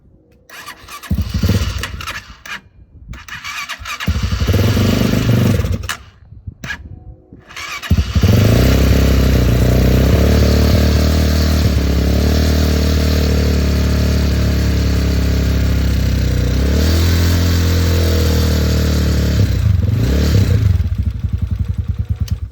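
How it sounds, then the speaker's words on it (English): A Honda CG250 motorcycle cranks with several short, stuttering tries and clattering gaps before catching, then settles into a steady, loud, close idle that keeps running to the end. "we'll get the bike started"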